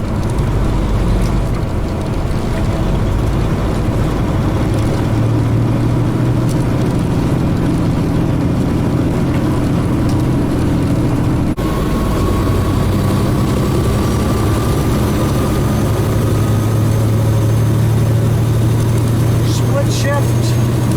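A heavy truck engine with a 13-speed transmission rumbles steadily at low pitch through a small town, its note dropping then rising again around a gear change midway, under continuous cab noise and someone talking.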